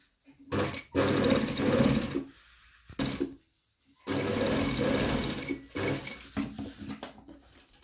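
Domestic sewing machine stitching the lining of a zippered pocket onto the zipper tape, heard in two bursts of steady mechanical whirring, close and fairly loud, separated by short pauses and a faint handling noise.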